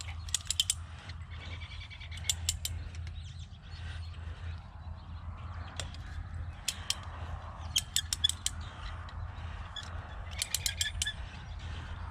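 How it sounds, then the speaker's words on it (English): A hand ratchet is cranked to tighten garden trellis wires, giving several short bursts of sharp metallic clicking between quiet gaps, with faint birdsong in the background. "So now I can just give it a couple more cranks"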